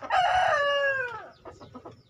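A single rooster crows loud and close among free-range village chickens, one full cock-a-doodle-doo lasting about a second before fading into softer clucks and quiet farmyard sounds.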